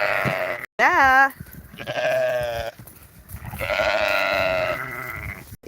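Several sheep bleat loudly and close by at a homestead, one sharp wavering bleat followed by longer drawn-out calls, with a person talking in between.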